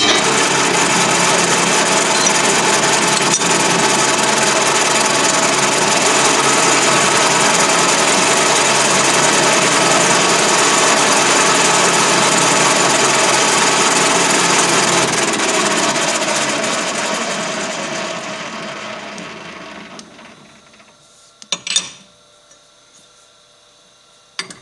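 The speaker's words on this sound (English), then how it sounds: "So I'm going in with a slightly bigger drill, freshly sharpened" A freshly sharpened, slightly larger drill bores into a folding workbench part with a loud, steady grinding whir for about twenty seconds. It fades out and is followed by a few brief knocks.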